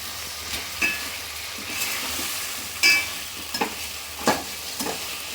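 Crab curry with garlic and tomato stirred in a pan, a steady sizzle broken by several distinct spatula scrapes and clacks against the metal, close and clear with no talking.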